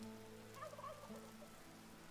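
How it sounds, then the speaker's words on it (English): Turkeys in the Vintage Story survival game give a short, faint warbling gobble over a soft rain-like ambient hiss and low steady hum. "The turkeys sound funny."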